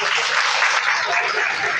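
An audience applauding Senator Jordan at a voters league gathering, a steady dense wash of clapping that stays even and loud throughout, close and without a break.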